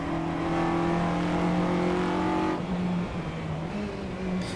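A Mini Cooper fitted with a B16A engine drives in Assetto Corsa EVO, its engine holding a steady buzzing drone before the pitch drops and settles lower, as if lifting off or shifting, with no talk.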